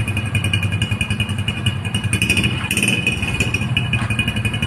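A motorcycle engine fitted with an aftermarket silencer runs close by, a loud, steady throbbing rumble with a slight rise in revs partway through.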